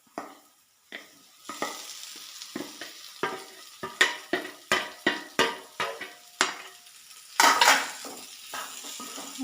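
Potatoes stirred into a spiced mixture in a pan while making aloo paratha: repeated close scraping and clattering strokes of a utensil against the pan, in an uneven rhythm over soft sizzling, with no talking.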